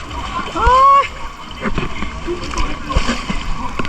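Strong waves slosh and splash in a water park wave pool, with people's voices and shouts over the churning water throughout.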